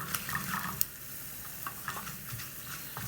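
Pulses frying in oil in a pan for a spicy Andhra chutney, with a spoon stirring through them: soft continuous sizzle with scattered scraping and clinking taps close by.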